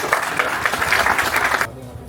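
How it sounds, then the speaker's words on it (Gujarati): Enthusiastic applause from a meeting audience welcoming an honoured guest with flowers, a dense steady wash of many hands clapping for about a second and a half before stopping abruptly, leaving quiet room tone. "અને જોરદાર તાળીથી આપણે એમનું અભિનંદન કરીએ છીએ."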